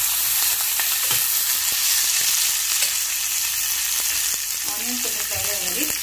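Onions fry in heated oil for brinjal masala with a strong, continuous close sizzle, broken by repeated scraping and stirring sounds and a few metallic clinks near the end.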